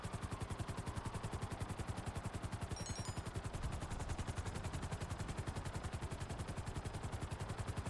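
Rapid automatic gunfire in Grand Theft Auto V, a steady machine-gun-like stream of evenly spaced shots running unbroken throughout, loud and close with no talk over it.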